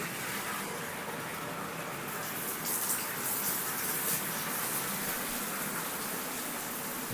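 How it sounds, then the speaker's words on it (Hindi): A waterfall water feature in a house patio gives off a steady, even rush of falling water that fills the whole stretch without breaks, close and continuous. "ये सामने खूबसूरत पैशियो दिया गया है जिसमें आपको वाटरफॉल मिलती है"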